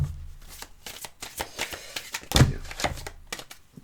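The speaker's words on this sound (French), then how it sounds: "Je remélange comme il faut." Tarot cards being reshuffled by hand, a run of crisp riffling and slapping bursts with a firmer thump near the middle, close and fairly quiet with no talking.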